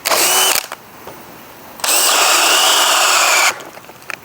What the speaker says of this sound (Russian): теперь сверла форстнера. Начинаем с 999. Тоже 3-я скорость, тоже режим сверления